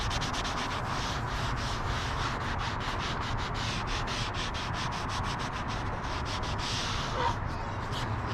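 Ceramic coating rubbed into engine bay plastic with an applicator, producing continuous close, rasping back-and-forth strokes in a steady rhythm.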